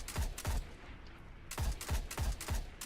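An exotic weapon fires in the shooter game Destiny, loud, punchy shots in two short bursts, two quickly spaced shots, a pause of about a second, then a run of four evenly spaced shots.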